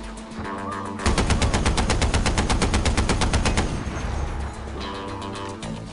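Automatic gunfire in Far Cry 4: a loud rapid burst of machine-gun shots, evenly spaced and sustained for nearly three seconds, with quieter game ambience before and after and no talk.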